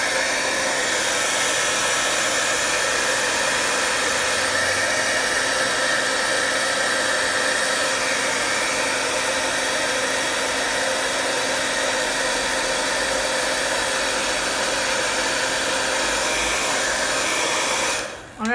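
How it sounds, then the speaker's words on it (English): A hair dryer drying acrylic paint blows with a loud, steady whoosh for a long stretch, then abruptly switches off at the end. "now I'm gonna get my hair dryer just to dry things a little faster."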